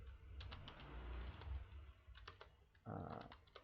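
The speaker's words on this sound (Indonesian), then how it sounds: "Lalu kita ketikkan no IP domain" Someone types a switch configuration command on a computer keyboard, a quick run of close clacking keystrokes ending in a firm burst, with faint background noise underneath.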